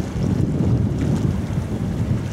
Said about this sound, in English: Not much other noise though, apart from the lapping of the water